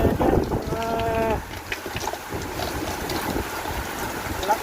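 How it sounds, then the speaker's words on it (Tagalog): Strong storm wind roars and buffets the microphone in gusty, noisy bursts, with a brief tonal call near the start and rain-like hiss throughout. "Lakas ng hangin."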